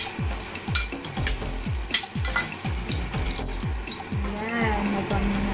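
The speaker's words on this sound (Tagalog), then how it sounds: "Ayan, lalagay ko na yung" Garlic hitting a hot pan for braised pork belly, a busy sizzle and frying hiss with repeated stirring scrapes, steady and close, while a voice talks over it.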